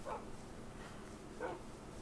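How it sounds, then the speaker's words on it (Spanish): Two faint, separate barks from a dog in a video game, spaced more than a second apart over a low background murmur. "Uy, un perrito."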